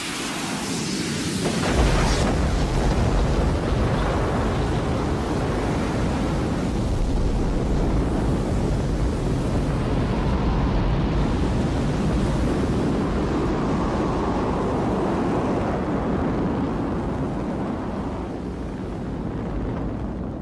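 A Soyuz rocket launch sends out a loud, continuous roaring rumble with heavy low-end buffeting. It swells in after a quieter opening and stays broad and sustained for about eighteen seconds, with no voices over it.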